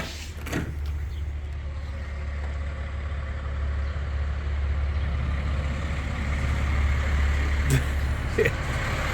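Big trucks idling steadily after being fired up, a deep continuous engine rumble close by, with a couple of brief clicks and clanks over it.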